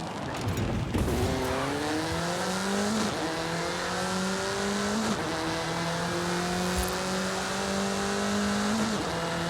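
A car in Forza Horizon 5 accelerates hard at speed, its engine note climbing steeply through each gear before dropping at every shift, loud and close.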